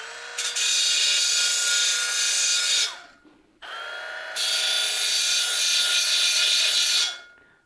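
A Milwaukee 12V cordless mini belt sander grinds steadily against a surface in two long passes, a loud abrasive whir with a brief pause and restart between them.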